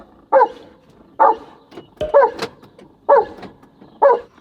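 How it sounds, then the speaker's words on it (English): A German Shepherd barks repeatedly, five or six sharp woofs spaced about a second apart, fairly close inside a parked Toyota FJ. "that's you barking like a fool"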